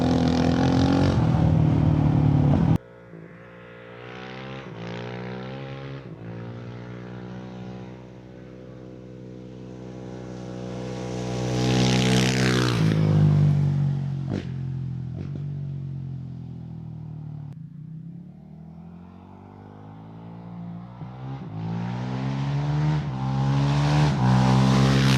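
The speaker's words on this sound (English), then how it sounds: "just don't think the four-strokes really get enough love for their exhaust note" A Honda CRF450RL four-stroke motorcycle with a stage 2 tune, its exhaust rising and falling through long revving pulls and gear changes, loud and close with a sudden cut near the start.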